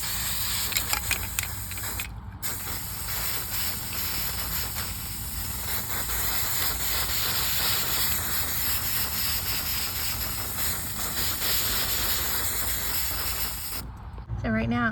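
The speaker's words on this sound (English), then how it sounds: "I just sprayed it." Spray can of Hammered Copper paint hissing in a steady continuous rush over a thrifted fall and Christmas decor piece, close and fairly loud for most of the span with brief breaks near the start and end.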